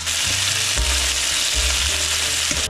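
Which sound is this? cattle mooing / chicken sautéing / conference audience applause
chicken sautéing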